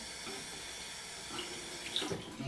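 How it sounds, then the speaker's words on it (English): Water runs and splashes quietly as folded paper drywall tape is soaked through for patching a golf-ball-sized hole, a soft, steady trickle that grows a little busier toward the end, with no voices. "Fold it in the middle. I'm gonna saturate it with water."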